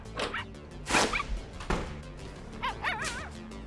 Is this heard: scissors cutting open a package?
no